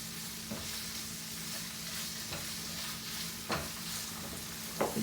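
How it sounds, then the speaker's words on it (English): Beef and garlic sautéing in a pan give a dense, even sizzle with a low steady hum underneath and a few light clicks of a utensil, close up and continuous with no talking. "I'm going to saute more the beef with the garlic"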